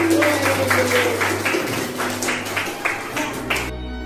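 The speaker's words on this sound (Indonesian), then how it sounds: "Tepuk tangan" Grade 7 students in a classroom clap their hands together in a quick, steady rhythm of sharp claps lasting a few seconds over a low background hum.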